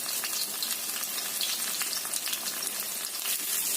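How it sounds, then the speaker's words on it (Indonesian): Shallots frying in hot oil in a pan give a steady, dense sizzle that holds evenly throughout, close and alone, with no talking. "Ini kita akan goreng dulu bawang merahnya."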